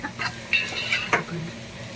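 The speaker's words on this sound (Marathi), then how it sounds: "आणि याला मस्तपैकी आता हलवून घ्या." Soybeans being stirred in a hot pan, with a few scraping strokes and soft sizzling over a quiet background, fairly close and moderately loud.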